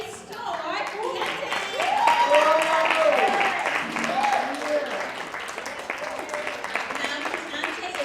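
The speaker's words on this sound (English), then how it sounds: "So give them a round of applause as they come up." Audience applause at a Women's Day girls' panel as panelists come up, lighter clapping running beneath a voice that keeps talking over it throughout.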